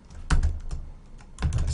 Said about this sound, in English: from here you can type like this